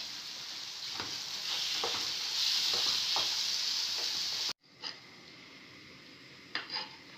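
Lasagne sauce with red cheese stirred in a pan, a steady loud sizzle with several scraping spoon strokes, then a sudden drop to quieter simmering with a couple more stirs.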